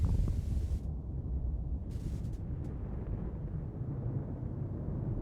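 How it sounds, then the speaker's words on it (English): Distant thunder from the visual novel game Death Mark, a deep low rumble rolling on steadily for several seconds, heavy and muffled, with no voices over it. "Thunder rumbles in the distance."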